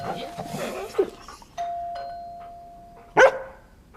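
A dog gives a few sharp barks alongside a doorbell ding-dong tone, with talk around them. The bursts are loud and close, with a sustained chime between them.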